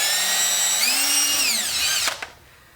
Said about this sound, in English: So first I'll go ahead with a thin drill bit and just drill into those spots.